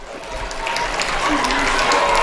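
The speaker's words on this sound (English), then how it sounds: "Fairview giving applause to the coach as he exits the pitch for probably the last time this season" Spectators at a high school girls' soccer playoff game applaud as the coach walks off the pitch, with steady clapping that swells slightly over a couple of seconds while voices murmur underneath.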